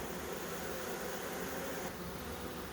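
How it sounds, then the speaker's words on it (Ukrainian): Honeybees swarm around a hive while being shaken off into a new colony, a steady, dense buzzing hum close by and fairly faint, continuous throughout with no voices. "Бджоли ще не всі позлазили, сюди ще лазять"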